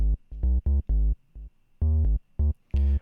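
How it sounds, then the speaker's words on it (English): Preset bass synth in Ableton Live for minimal house, playing a choppy line of short, deep, buzzy notes with brief gaps between them, clean and upfront with no talking. "So I've set up a bass channel here."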